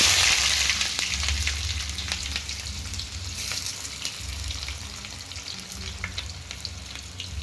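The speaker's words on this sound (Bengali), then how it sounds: "পেঁয়াজটা ভালো করে লাল লাল করে ভেজে নেব।" Chopped onions fry in hot oil with whole garam masala and bay leaves, a steady close sizzle with occasional stirring scrapes and clatters running throughout, no voices.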